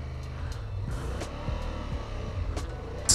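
Honda CB750 Hornet motorcycle engine with a crossplane note, a steady loud rumble while riding, with wind noise and a few faint rev swells and no talk.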